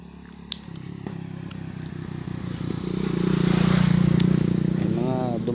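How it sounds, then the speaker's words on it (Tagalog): A motorcycle passes along a quiet road, its engine swelling from a low hum to a louder, rough drone near the end, with faint background noise and scattered clicks. "May mga dumadaan pa rin mga motor"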